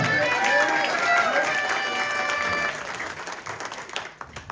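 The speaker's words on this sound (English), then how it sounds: "let's give a big round of applause to the fierce Sam on guitar" A crowd applauds a guitarist at a spring band program showcase, steady dense clapping under sustained musical tones, fading and growing sparser in the last seconds.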